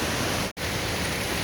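Laurie's Falls on the Middle Prong of the Pigeon River in the Middle Prong Wilderness roars as a dense, steady rush of falling water, loud and close, broken by a momentary dropout partway through.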